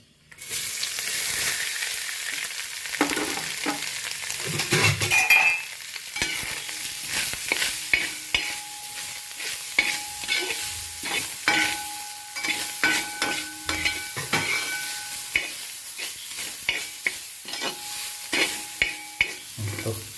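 Thazhuthama leaves with turmeric powder, onion, green chilli and coconut sautéing in a pan, a steady loud sizzle broken by repeated scrapes and clacks of stirring, close up with no voices.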